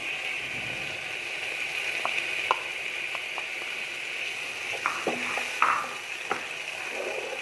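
Onions and tomatoes fry for chana pulao in a steady, close sizzle, with several sharp clicks and scrapes of stirring scattered across it and no talk.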